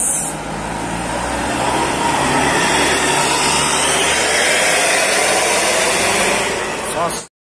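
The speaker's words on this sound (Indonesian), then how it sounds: "Melintas ini unit bus Mitra Rahayu MR105." A Mitra Rahayu MR105 tour bus rolls past on a street in Ciamis, a loud, broad engine and road roar sustained close up before cutting off abruptly at the end.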